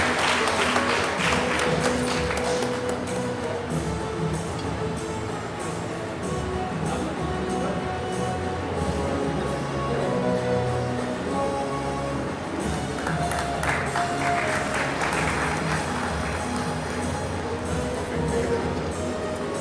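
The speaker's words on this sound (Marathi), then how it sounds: "सर्वांनी टाळ्या वाजवून त्यांचं अभिनंदन करावं असं मी विनंती करतो" Audience applause at the inauguration of an annual national commerce teachers' seminar in Maharashtra fills the room with sustained clapping that swells at the start and again near the end, with a few faint voices mixed in.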